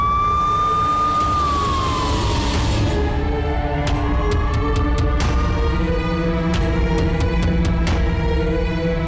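An ambulance siren wails loudly nearby, its tone sliding down and then steadying, over the rumble of a heavy engine with sharp clicks along the way.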